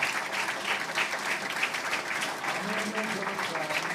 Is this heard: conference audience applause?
yes